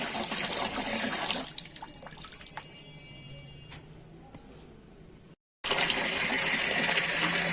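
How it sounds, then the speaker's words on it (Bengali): Tap water pours into a basin in a steady gush, with dripping and splashes; the flow cuts out briefly before resuming strongly. "এখন কলটা অফ করে দেবো।"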